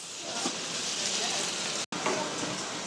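Mixed vegetables fry in a hot pan with a steady, close sizzle and hiss that broke only by a split-second gap.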